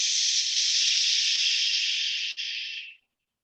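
A person exhales slowly through the teeth, imitating hissing steam, a loud steady close hiss lasting about three seconds with a brief break near the end before stopping.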